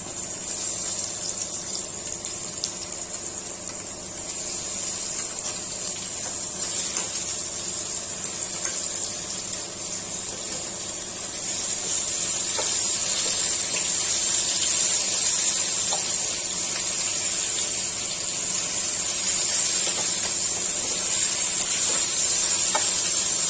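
Pointed gourd pieces coated with salt, turmeric and a little sugar frying in hot oil, a steady broadband sizzle and hiss that holds for over twenty seconds and grows slightly louder halfway through, no talking.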